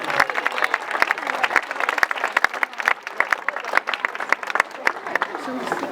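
An audience claps for a funk jazz orchestra at a concert in Berchidda, Sardinia, with dense, continuous applause and sharp individual claps standing out, crowd noise mixed in.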